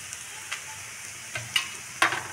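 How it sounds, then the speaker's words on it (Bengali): Onion fries in hot oil with bay leaf and whole spices, a soft steady sizzle broken by a few sharp stirring scrapes and clicks, close and alone. "পেঁয়াজটা হালকা ভাজা হয়ে আসছে, আমি এখন দিয়ে দেবো এখানে তেজপাতা ও গোটা মশলা।"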